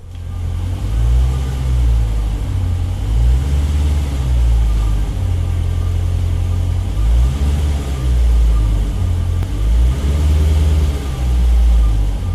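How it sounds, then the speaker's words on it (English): A 2020 Dodge with a 6.4 Hemi V8 idles steadily and loudly up close, its deep rumble rising and falling in gentle waves for about twelve seconds with no talking. "let's go ahead and start the car up, let it run for a little bit"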